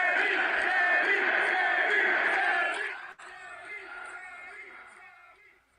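At WWE Elimination Chamber a packed arena crowd bellows and cheers loudly, then the roar abruptly drops to a quieter, lingering murmur of shouts that fades out.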